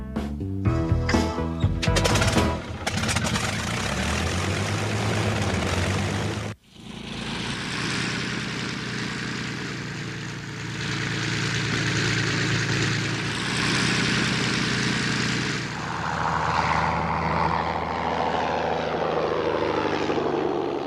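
An A-1 Skyraider's propeller engine roars loud and close, sputtering and popping at first, cutting out briefly, then settling into a sustained heavy drone that shifts in pitch toward the end.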